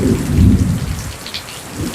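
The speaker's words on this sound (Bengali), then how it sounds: "দেখেন জাস্ট 5 থেকে 6 মিনিট বৃষ্টি হয়েছে, দেখেন বিজলিও দিচ্ছে।" Heavy rain pours down in a village during a thunderstorm with lightning, a loud steady roar with a deep rolling rumble of thunder at the start.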